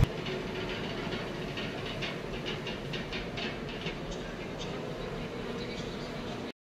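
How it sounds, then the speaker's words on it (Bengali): A Kolkata Metro train pulls in at Dakshineswar station with a continuous rolling rumble, rail clatter and a soft hiss. The sound is fairly quiet and even throughout and cuts off abruptly at the end. "এই যে আমার মেট্রো এসে গেছে, দক্ষিণেশ্বর থেকে মেট্রোয় উঠেছি"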